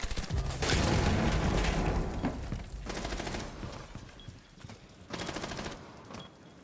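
Video game gunfire comes in three loud, rapid automatic bursts separated by short pauses, with the first burst the longest.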